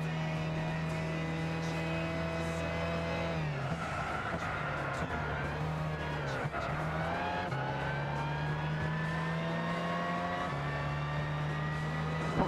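A race car engine in Gran Turismo 6, driven with a racing wheel on PS3, holds a loud steady high-revving drone, dipping and sweeping through gear shifts and corners, with no speech over it.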